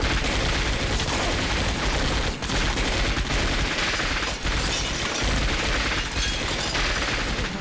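Dense, continuous gunfire, a loud barrage of rapid shots and bursts overlapping without pause, like a heavy battle at close range, in an action drama set during the anti-Japanese war.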